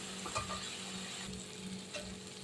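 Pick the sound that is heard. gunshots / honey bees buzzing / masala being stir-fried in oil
masala being stir-fried in oil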